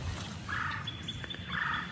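A wild turkey gobbles twice from across a swamp during a spring hunt in Michigan, faint and distant, with quiet ambient background and no talking.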